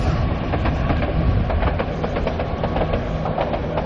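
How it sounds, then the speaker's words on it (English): A train rumbles steadily past at close range near Bridlington on the English coast, its wheels clicking rhythmically over the rail joints the whole time, with no voices. "See, I can do videos of trains as well."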